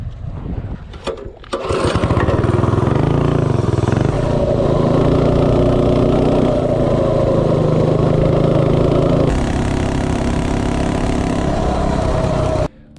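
A Predator 224 engine on a Coleman minibike, fitted with a Mod 2 cam and with the governor removed, roars into a loud, steady run after a brief start-up sputter. It holds a near, sustained high rev, then cuts off abruptly at the end.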